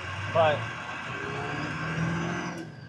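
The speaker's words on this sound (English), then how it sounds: "The engine's loud, and I'm sure you can hear it." Inside the cab of a Ford F250 dentside truck with a swapped 7.3 diesel, a loud steady engine drones and hums while driving, with someone speaking over it.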